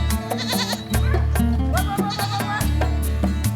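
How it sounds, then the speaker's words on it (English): Rove goats bleat repeatedly and loudly while grazing in the hills of Provence, with several overlapping, wavering calls from nearby animals over a steady outdoor background. "Following an ancient daily ritual, Francois takes the goats up into the local hills to graze on the diverse range of local grasses"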